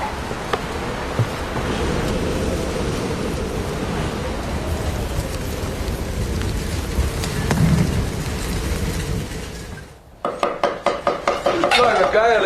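Heavy rain and wind roar steadily through a late-spring storm on a Chinese mountain, a dense continuous wash with a low rumble swelling near the middle, then breaking into a series of sharp rattling bursts near the end.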